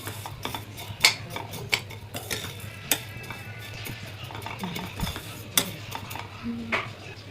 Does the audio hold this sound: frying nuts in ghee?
yes